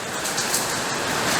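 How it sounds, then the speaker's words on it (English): Hail pounds an off-road truck during a storm, a dense, loud, continuous patter of hard impacts drumming on the body close by. "It's hailing and beating the hell out of AJ's truck right now"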